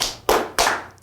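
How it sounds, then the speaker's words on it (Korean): Two sharp, close hand claps with quick decay, spaced about a third of a second apart, in a room during a children's Sunday school lesson, with no talking over them. "박수 3번 시작."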